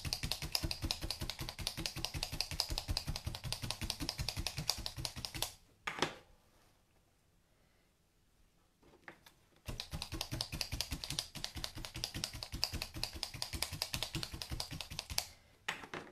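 Rapid, steady stabbing of a single felting needle into wool, a dense run of close clicks for about five seconds, a quiet pause, then the same brisk rhythm resumes for the rest, loud and up close with no talking.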